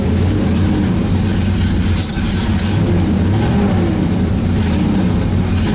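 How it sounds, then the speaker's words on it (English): A 1969 Corvette C3 big block V8 running loud and steady right after starting from sitting for years, deep rumbling idle with slight rev swells, close up and continuous with no talk. "A little lag there, but it fired right up."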